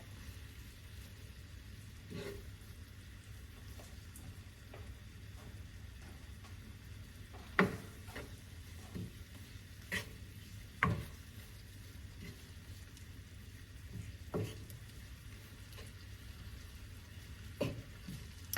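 Shrimp fry in a pan for paprika shrimp pasta, a faint, steady low sizzle with occasional small pops and clicks heard close but quiet throughout.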